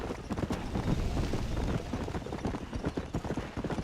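Rapid clip-clop of a horse galloping in the Western video game Red Dead Redemption, steady and loud throughout with a faint voice briefly in the background.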